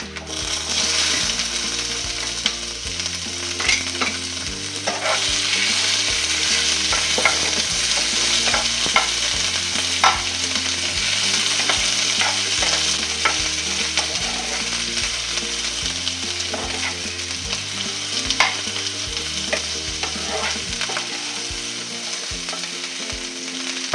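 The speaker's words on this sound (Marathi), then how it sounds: "कांदा भाजला बघा." Onion frying in a pan with toasted coconut for Kolhapuri chicken rassa, a loud continuous sizzle broken by repeated spatula scrapes and clinks. Steady low background music plays beneath it.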